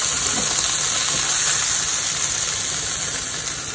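Chicken tikka burger patties fry in a frying pan with a steady, loud hiss and crackle of hot oil that holds without pause before easing slightly at the end.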